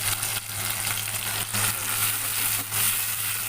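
Arbi masala with tomato, ginger and garlic paste frying on a low flame makes a steady close sizzle, broken by a few soft stirring scrapes, no voices.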